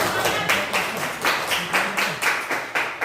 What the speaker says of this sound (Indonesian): Beri tepuk tangan pada semuanya.